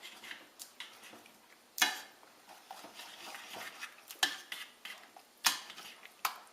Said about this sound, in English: we're just going to mash the tomatoes